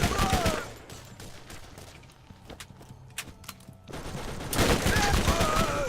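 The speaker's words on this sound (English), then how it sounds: "Bit of SMG, I think." Bursts of SMG fire from a Borderlands shootout, rapid rattling volleys at the start and again near the end, with a quieter stretch of scattered shots between.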